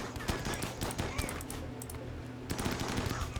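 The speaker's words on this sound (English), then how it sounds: "Yep, there's the chain shotguns." Chain shotguns fire in Rimworld combat, a dense run of rapid gunshot bursts that pauses briefly and then resumes, loud and steady throughout with no talk over it.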